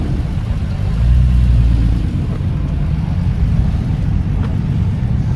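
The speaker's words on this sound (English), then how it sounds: "we got a R34 Skyline GTR VSPEC 2 coming in, incoming" A Nissan Skyline GT-R R34 V-Spec II pulls into a Tokyo underground car meet, its engine a steady loud low rumble that swells briefly as it rolls in, against echoing ambient noise.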